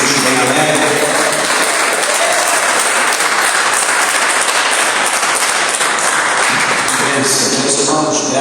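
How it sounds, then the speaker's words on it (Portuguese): Church congregation applauding joyfully for Jesus, loud and sustained crowd clapping filling the room evenly throughout, with voices faintly mixed in. "Quem pode dar uma salva de palmas para Jesus bem alegre?"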